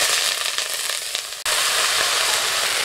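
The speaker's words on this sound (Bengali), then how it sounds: "কড়াইয়ে অল্প তেল দিয়ে দিয়েছি, এখন তেলের মধ্যে আমি ব্রোকলিগুলো দিয়ে দিচ্ছি।" Broccoli dropped into a little hot oil in a wok, a loud close sizzle that cuts out for an instant and bursts back strongly, continuing as a dense crackle.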